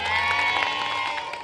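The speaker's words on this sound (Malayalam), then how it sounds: "ഒരു കയ്യടി കൊടുക്കേ." A crowd at a stage show claps and cheers as the singer is welcomed, a lively burst of applause mixed with shouts and voices, loud and sustained across the moment.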